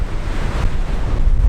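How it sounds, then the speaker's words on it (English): Heavy wind buffets the microphone while riding a BMW R nineT Scrambler motorcycle, a loud, continuous low rumbling roar that swells and dips unevenly throughout, with no talking. "Yeah, it's windy as heck."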